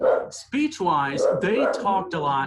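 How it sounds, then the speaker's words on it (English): A dog barks and yips in quick bursts right up close, layered with overlapping talk. "That's my dog."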